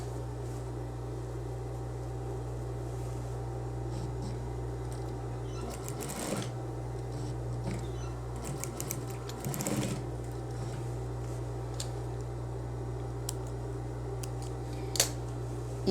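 A sewing machine stitches a belt loop onto a satin robe, running in a steady continuous hum with a few louder bursts, close and alone without talk.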